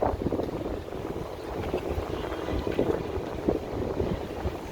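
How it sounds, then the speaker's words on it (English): Strong wind buffeting a microphone outdoors on a walk in downtown Chicago, a steady loud rumbling roar throughout with no pauses. "This is windy."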